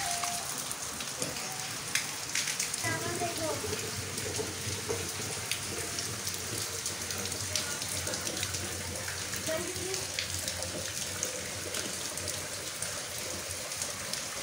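Sudden heavy rain pours down in Karachi, a dense steady hiss of drops on surfaces that runs unbroken and fairly loud throughout.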